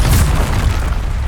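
A Confringo fire spell explodes in the video game Hogwarts Legacy, a single loud, close, deep boom that bursts at once and rumbles briefly as it fades.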